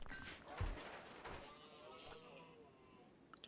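A goat bleats in the colony-building game Rimworld, one wavering, nasal cry near the start among faint game sounds and a soft voice, then a quieter tail with small clicks.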